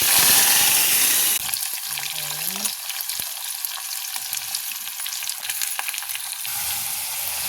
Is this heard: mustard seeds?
yes